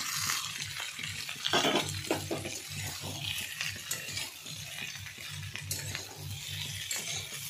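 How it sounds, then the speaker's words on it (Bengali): Pakoras stirred into onion and capsicum frying in a pan for chilli chicken, giving a steady sizzle with scraping utensil strokes and clinks throughout, close and fairly loud, with no talking. "এবার আমি পকোড়াগুলো দিয়ে দেব।"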